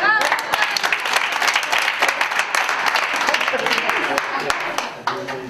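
Audience applause at an interactive theatre performance, a dense burst of clapping that carries on steadily for several seconds and then fades, with a few voices underneath.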